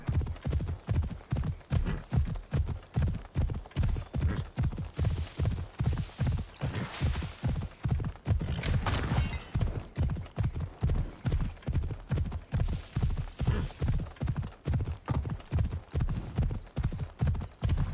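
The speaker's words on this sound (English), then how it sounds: "Is the horse grunting?" Horse hooves clip-clop in a steady, even rhythm through the whole stretch in Assassin's Creed Odyssey, loud and close, with faint snorting from the mount now and then.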